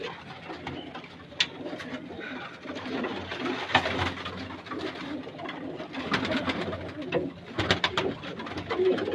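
Pigeons of the Lakhpati breed, kept as low flyers at a home in Hyderabad, coo in repeated soft throaty calls, close by, with occasional wing flutters and faint background noise.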